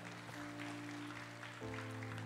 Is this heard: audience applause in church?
yes